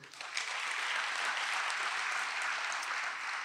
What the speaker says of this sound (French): on peut se donner une bonne main d'applaudissements